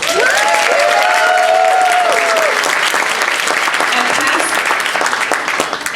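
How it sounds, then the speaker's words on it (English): Loud audience applause for a Woman of the Year honoree at an awards ceremony, steady clapping throughout with a brief voice or tone heard early on over the crowd. "Round of applause."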